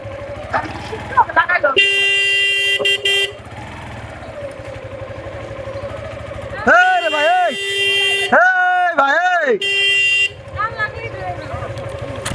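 Car horns honk repeatedly on a busy street, long sustained blasts and short toots in bursts amid engine and traffic noise, with people shouting and arguing over them.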